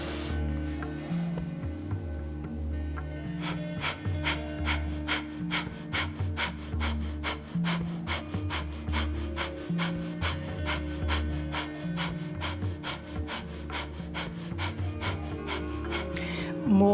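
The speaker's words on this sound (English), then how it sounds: "you can stay there for about 30 seconds with breath of fire" Rapid, rhythmic breath of fire from a kundalini yoga class, quick forceful exhalations pumping steadily and close for many seconds over a low droning music bed.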